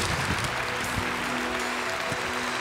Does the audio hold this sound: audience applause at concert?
yes